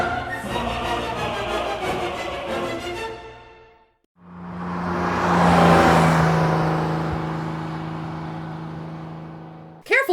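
A car in an audio drama scene drives along an old coast road beside an ocean cliff, its engine swelling into a steady hum and whir that builds then holds, following a stretch of talk and ending abruptly.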